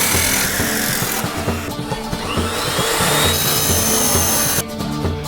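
A leaf spring steel axe head being cut, a loud, continuous, harsh grinding-saw drone close by that holds steady throughout with brief shifts in pitch and a sharp change near the end.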